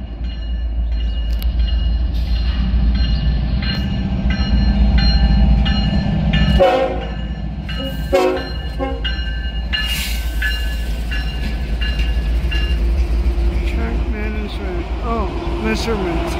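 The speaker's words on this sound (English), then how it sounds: "Alright, here's a very, very rare train." A rare railroad Officer Circus Special train passes close by, a steady low rumble with clanking bursts and a drawn-out horn-like tone, while a person speaks over it.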